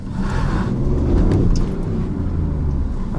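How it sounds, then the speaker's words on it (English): A 2019 BMW i8 spinning its wheels in electric-only mode, with a loud, steady broadband roar of tire and motor noise that swells slightly midway and then holds. "That was an electric only wheel spin for a while there."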